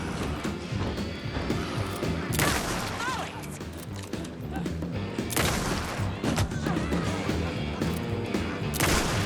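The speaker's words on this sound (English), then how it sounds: "I was trying to be very efficient with my explosives" Explosives detonate in video game combat, loud booming blasts punctuating a continuous din of gunfire and battle noise, with a few sharp bursts standing out.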